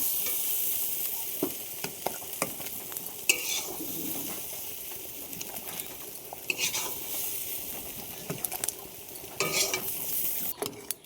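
Green banana curry frying in a pan and being stirred, with intermittent scraping and clinks of a utensil against the pan over a quiet, steady sizzle, a lid-like clatter near the end.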